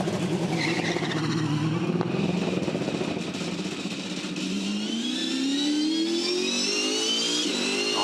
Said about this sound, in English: Hear the first gear selection in the background.